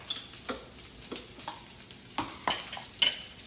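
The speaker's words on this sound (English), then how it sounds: "I'm gonna add some onions to the other side of my pan" Chopped onions dropped into a hot pan, a quiet sizzle under intermittent spatula scrapes and light clinks of a utensil against the pan, close and fairly soft.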